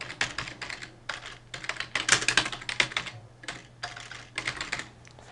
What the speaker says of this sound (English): you type that in